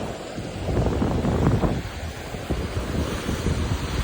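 Sea waves washing onto a beach, a steady close roar of surf with wind buffeting the microphone throughout.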